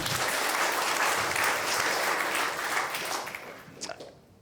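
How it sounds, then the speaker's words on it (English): An audience at a county State of the County address breaks into loud, dense applause that holds steady and then tapers off into scattered claps. "a big round of applause for her, too"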